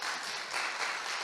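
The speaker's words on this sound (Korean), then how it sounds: "박수 한번 해주세요." A church congregation at a Sunday service applauds in a brief, soft, steady patter of many hands clapping together.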